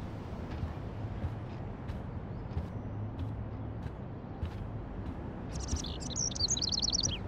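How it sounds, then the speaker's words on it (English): Bird chirping indoors in the video game Life Is Strange: a burst of quick, high, bright tweets near the end, over a steady low room hum with faint soft knocks earlier. "can you help me get this bird out of here?"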